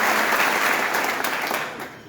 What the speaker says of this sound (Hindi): एक बार जोरदार ताली बजा रहे